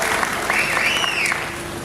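Sustained applause from a large audience at a public dedication ceremony in Sandur, steady and even throughout with no talk over it.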